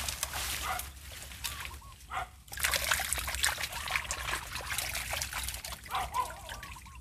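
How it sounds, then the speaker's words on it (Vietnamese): Snakeskin gourami thrash inside a fish trap set in a water-hyacinth canal in a bamboo forest. The splashing and trickling comes in uneven bursts, close and moderately loud, and pauses briefly midway. "tiếng nhảy xào xào vậy nhưng mà là cá sặc không à"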